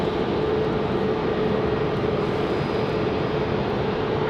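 A Boeing 737 MAX 8 airliner of American Airlines roars steadily at Raleigh-Durham International Airport, a continuous broadband jet engine rumble with no break and no voices.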